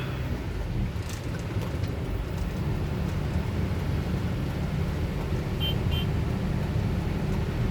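Dense road traffic on a sunny city street in Makassar, a continuous low rumble of passing vehicles at mid distance, with a faint brief horn-like tone partway through.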